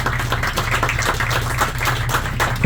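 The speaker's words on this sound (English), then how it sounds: "give the congressman another big round of applause" A crowd gives a congressman a round of applause at an outdoor environmental justice boat tour event, steady dense clapping filling the whole stretch, close and fairly loud.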